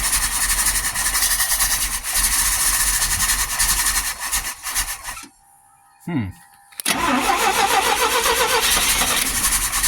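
A 1969 GMC C5500 farm truck engine cranks and catches, running loud and close as a steady rumble, then cuts out briefly before firing up again and settling into a strong idle.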